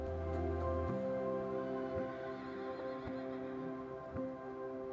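Cannary the horse whinnies in reply at a veterinary research hospital, a drawn-out tonal neigh with wavering harmonics, fairly faint against a busy background with a few sharp knocks like hooves.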